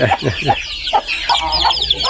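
A hen on a farm clucks in short, close, repeated bursts, loud and choppy, with an uneven rhythm throughout.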